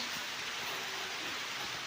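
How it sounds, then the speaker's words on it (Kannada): Rain falls steadily outside a village home where jowar is being ground on a traditional stone hand mill, making a continuous, even hiss with no talking. "ಮಳಿ ಬರಾಕತ್ತೈತಿ ನೋಡ್ರಿ"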